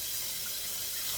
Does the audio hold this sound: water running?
yes